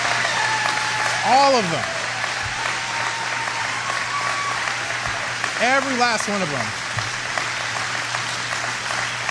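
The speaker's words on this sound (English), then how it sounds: "Look how long they're clapping." Long, steady applause from a Florida audience fills the background while someone speaks over it with emphatic bursts of voice, the clapping continuing evenly throughout.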